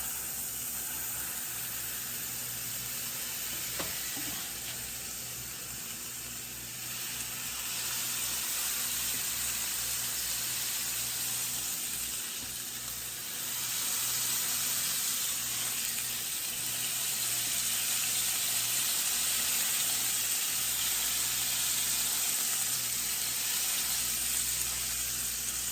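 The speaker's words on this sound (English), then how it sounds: "I hear the sizzle" Smash burger patty sizzling on a hot stovetop Ninja Never Stick pan, a steady loud crackling hiss throughout with a brief click near the start, no talk.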